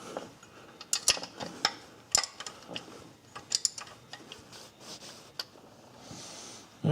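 A ratchet works a 13 mm nut off the front of a Suzuki Forenza engine, giving soft irregular clicks and metallic ticks, close and fairly quiet with no talking.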